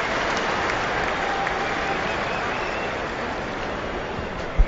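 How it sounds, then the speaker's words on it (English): Crowd at a 2007 England versus India test cricket match cheering and applauding a milestone, a broad steady roar of clapping that holds evenly throughout, with one brief louder burst near the end. "Comes up on the public address system, so the crowd cheer up."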